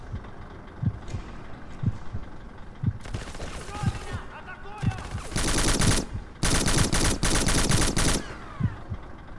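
Gunfire from the classic Xbox shooter Black comes in loud bursts of rapid automatic fire in the second half, after sparser single shots and thumps earlier on.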